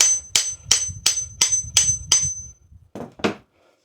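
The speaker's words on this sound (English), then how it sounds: "I'll keep driving that on to see if it'll come through" A small hammer striking the end of a wooden tack hammer handle to drive the head on: seven sharp ringing metallic blows in an even rhythm, then a short pause and two duller taps, close and alone.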